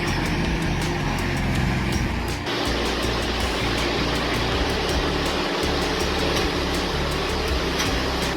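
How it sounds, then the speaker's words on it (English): A heavy logging truck loaded with tons of wood drives along a slippery snowy road, its engine a loud, steady rumble that shifts once partway through and then carries on. "The powerful logging truck,"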